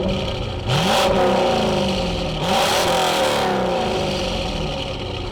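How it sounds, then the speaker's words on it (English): A Corvette engine at a car show cruise event revs hard twice, each loud climbing surge falling back to a rumbling idle, heard up close with no talking. "They like to rev those engines up."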